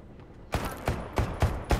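Gunshots in the video game Deceit 2 ring out as four or five evenly spaced, sharp reports in quick succession, moderately loud after a quiet lead-in.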